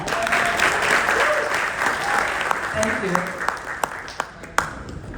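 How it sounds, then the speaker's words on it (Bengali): A crowd at a gathering breaks into loud, sustained applause, with scattered sharper claps standing out near the end and faint voices underneath. "আর একটু জোরে তালি হোক না"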